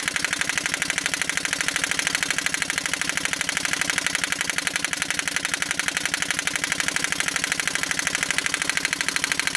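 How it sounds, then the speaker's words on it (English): A 1940 Evinrude Handitwin 3 hp twin-cylinder outboard idles at low RPM in a steady, rapid even putter with a broad mechanical hiss, running alone and fairly loud throughout. "It's shaking a little bit, but it's still idling, still pumping."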